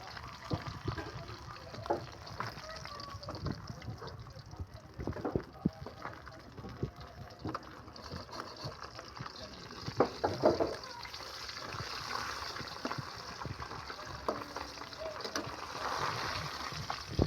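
Fried fish being rinsed in water produces irregular splashes and sloshing bursts over a low, murky kitchen background, with sharper splash peaks near the middle and toward the end.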